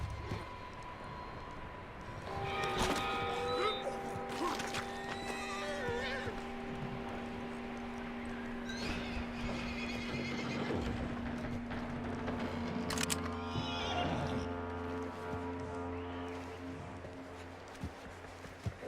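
A horse whinnies and snorts in Red Dead Redemption 2, its hooves shuffling and stamping nearby, over soft low background tones.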